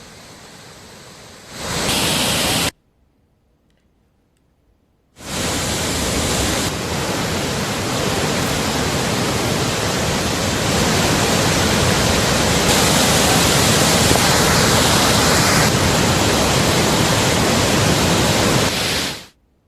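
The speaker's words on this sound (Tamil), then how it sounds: "ஒகேனக்கல் காவிரி ஆறு மற்றும் அருவியில் நீர் ஆர்ப்பரித்து செல்வதால்" The swollen Kaveri river roars through Hogenakkal falls in a dense, steady rush of water, loud and unbroken apart from one silent gap of a few seconds near the start.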